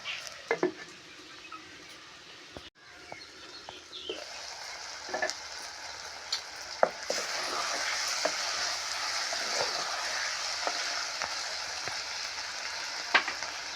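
Beans and eggs cooking in hot oil under a lid: a steady, close sizzle and crackle that grows slightly denser after the first few seconds, with a few light clinks and pops.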